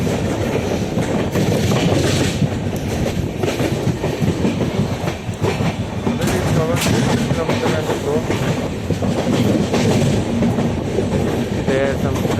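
The Rani Chennamma Express, train 20654 hauled by a WAP-7 electric locomotive, pulls out of Hubballi station with loud, steady clickety-clack of wheels over rail joints, rumbling close by throughout.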